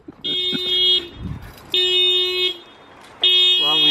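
A car alarm blares in loud, steady bursts, stopping and restarting three times, with a brief voice between bursts.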